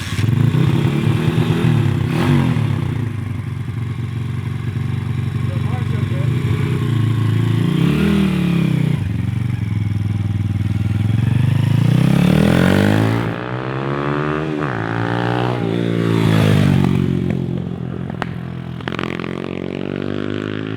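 Motorcycle engine running steadily on a ride, its tone rising and falling with revs, then faltering and dying away toward the end, close and loud throughout.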